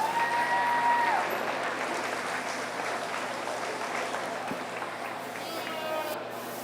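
An audience applauds at a 4-H meat goat show, a steady wash of clapping from a sizeable crowd in a large hall that holds for several seconds and slowly fades.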